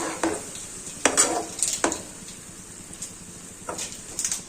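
A spoon stirs chopped tomato sautéing in a pan for a green pigeon pea curry, giving several scraping strokes against metal over a faint, steady sizzle, close and intermittent, with no talking.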